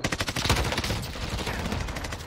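Rapid automatic gunfire from Call of Duty Warzone, a dense burst of close, loud shots at the start that settles into steady rattling fire throughout.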